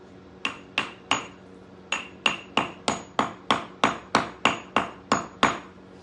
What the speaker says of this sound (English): But with my hammer, with the chisel end, makes it a little easier,